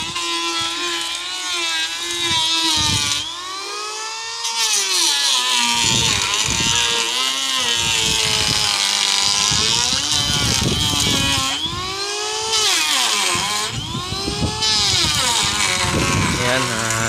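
A loud, continuous mechanical whine of a power wood planer shaping boat planks runs throughout, cutting in and out with pitch shifts as it works, while a person talks over it.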